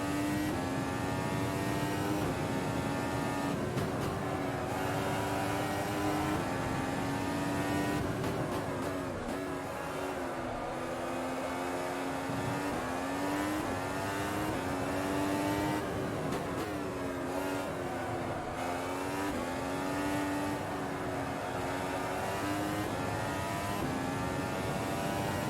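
A Formula 1 Ultimate car races around Hockenheim in the Automobilista sim, its high-pitched engine screaming steadily throughout, with rising pitch on the upshifts and dips under braking, loud and alone with no talk.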